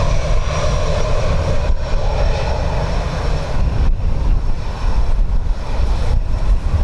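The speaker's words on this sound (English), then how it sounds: "Ryanair from Newcastle, followed by our ATR from Aberdeen" A Ryanair jet arriving at Dublin Airport in a crosswind roars steadily and loudly through the whole stretch, a broad engine rumble with wind buffeting the microphone and no voices over it.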